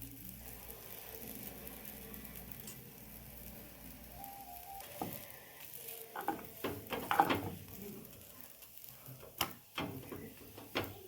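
Aloo paratha fries in an oiled pan with a soft sizzle that builds halfway through into louder crackling and spatula scrapes, close by, with no one speaking.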